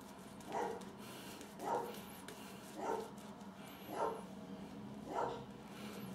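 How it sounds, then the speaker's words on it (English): A dog barks five times at a steady, evenly spaced rhythm, somewhat distant and muffled over a constant background hum. "So excuse the barking as well."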